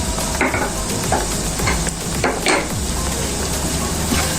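A spinach filling seasoned with salt, black pepper and red pepper is stirred in a pan, with a steady sizzle under repeated scraping strokes of a spoon, close and fairly loud.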